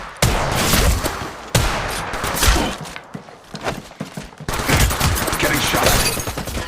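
Gunfire in the Apex Legends Mobile battle royale game: dense, loud bursts of rapid automatic shots and sharp single cracks, several clusters over a few seconds, with the game's voice announcements mixed in.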